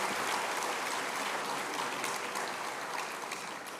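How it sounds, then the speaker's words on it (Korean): Congregation at a church summer camp service applauds the church choir, a faint, distant, even wash of clapping that slowly tapers off toward the end. "아름다운 찬양을 불러준 성전교회 합창단에게 다시 한번 큰 박수"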